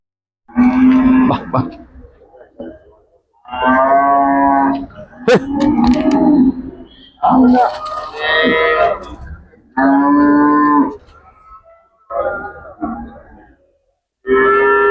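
Cows low repeatedly at a cattle market, a series of loud, drawn-out moos spaced a second or two apart, close by and largely free of talk.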